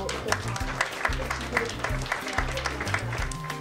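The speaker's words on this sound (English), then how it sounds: "I do really want a big round of applause, please" An audience applauds at a wedding fashion show, steady clapping from a crowd over loud, pulsing background music with a thumping low beat.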